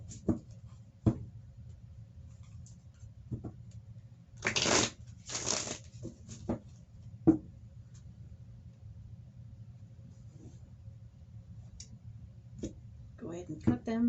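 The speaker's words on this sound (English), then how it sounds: "we'll go ahead and get these cards shuffled up" Tarot cards are shuffled by hand in two short, brisk riffling bursts close to the microphone, with scattered taps and handling noises before and after over a quiet room hum.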